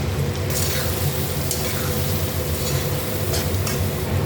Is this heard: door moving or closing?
no